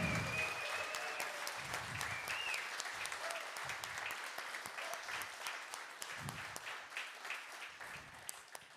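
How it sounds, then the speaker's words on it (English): An audience at a live product showcase applauding steadily, a dense, sustained wash of many hands clapping that carries on at even strength, with a few faint voices underneath. "You keep on applauding."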